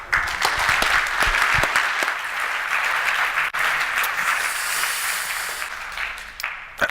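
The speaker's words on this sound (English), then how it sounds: "Let's give him a warm round of applause." A dense, steady round of applause from a large conference audience, loud and continuous for several seconds, easing off slightly near the end.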